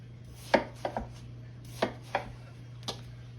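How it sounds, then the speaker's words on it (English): A kitchen knife chops through a watermelon, cutting it in half, in about seven sharp, close thuds as the blade hits the board at irregular intervals, with faint steady hum beneath and no talking. "I'll do it with my knife. Cut it right here in half."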